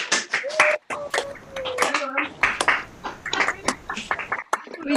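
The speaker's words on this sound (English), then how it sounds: "let's give ourselves a round of applause" Harp ensemble members on a Zoom call clap for themselves in scattered, uneven bursts, with voices calling out and talking over the patchy applause.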